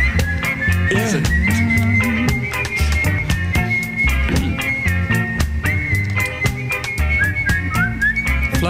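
Bright, sustained whistled melody over a full band with drums and bass, the whistle line clear and prominent throughout.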